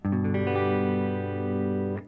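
A single sustained chord on an Epiphone Dot Pro electric guitar in standard tuning, strummed once and left ringing with a rich, effected tone before cutting off after about two seconds.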